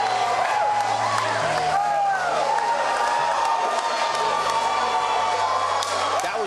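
Crowd at a Coveted Fighting Championships MMA event cheers and roars steadily after a guillotine submission, a dense continuous wash of voices with whoops rising and falling throughout.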